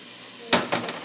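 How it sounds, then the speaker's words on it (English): Ground turmeric hits hot oil in a pan for catfish mango curry, giving a sharp sizzling burst followed by two smaller crackling flare-ups, close and brief. "And sizzling."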